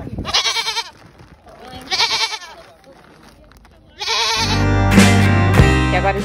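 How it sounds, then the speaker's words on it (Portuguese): A goat bleats loudly and close by, several drawn-out cries in a row, while being loaded into a van in a town in Mauritania; a louder burst of mixed noise follows. "até uma cabra sendo colocada na van para seguir a viagem"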